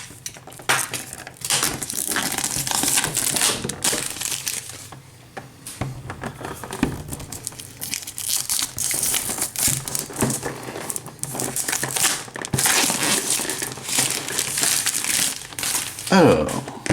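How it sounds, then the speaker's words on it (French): Cellophane wrap being pulled and crinkled off a HeroQuest board game box, loud close crackling that comes in long rustling stretches, with a voice talking at times. "on va tout d'abord enlever le cello pour éviter d'avoir des reflets"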